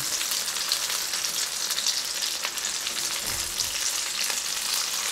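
Shrimp and smoked fish balls frying in hot oil give off a steady, dense sizzle with crackling pops, close and continuous throughout with no talking.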